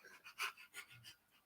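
A dog pants softly in quick, breathy bursts, faint and close in a quiet room, with no talk over it.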